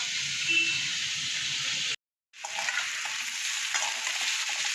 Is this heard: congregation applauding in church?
no